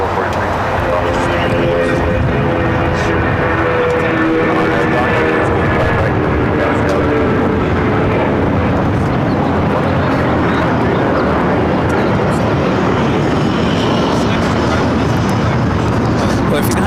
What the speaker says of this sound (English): Next takeoff here on the south side, United Airlines flight 1194 heading to Newark. It's a 757-200.